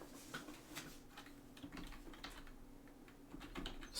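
Fingers type on a computer keyboard in quick, light bursts of clicky keystrokes, quiet and close, with no talking.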